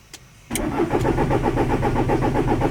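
A VW T4 van engine cranks briefly, then catches and settles into a loud, steady idle with no talking.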